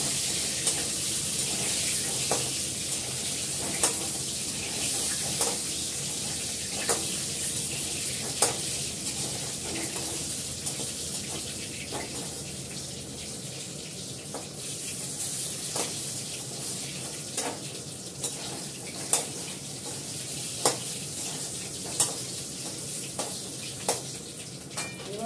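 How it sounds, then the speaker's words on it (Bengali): Potatoes frying in hot oil in a pan, a steady close sizzle running throughout with regular sharp scrapes and taps of a spoon stirring them, and no talking. "ভালোভাবে লাল করে ভাজা হোক,"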